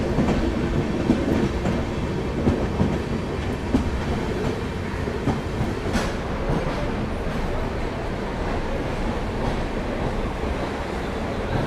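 Steady rumble and clickety-clack of the Howrah Pune Duronto Express running through Kharagpur station, heard from on board: a continuous, loud rolling rail noise with rhythmic wheel beats and no pauses throughout.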